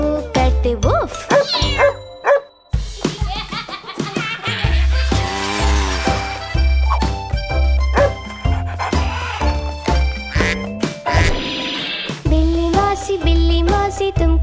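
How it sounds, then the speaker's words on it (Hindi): Cartoon dog barking woof in a Hindi nursery rhyme about a cat, short yips and barks set among sung lines and bright music, with a singing voice throughout. "देखा कुत्ते को करते वूफ।"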